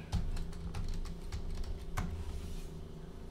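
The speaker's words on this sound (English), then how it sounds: "I gotta type in my password here." Rapid keystrokes on a computer keyboard while a password is entered, a steady patter of close, crisp clicks with a louder tap near the end, over a low background hum.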